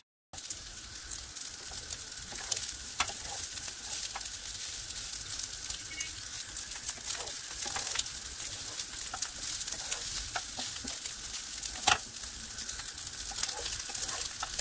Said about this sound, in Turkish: Köftelerin her iki yüzünü de ara ara spatula ile karıştırarak orta ateşte hafifçe kızarmasını